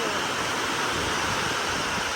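Rainwater pouring into a farm field during heavy rain, a dense, steady rushing wash of water noise, close and unbroken throughout.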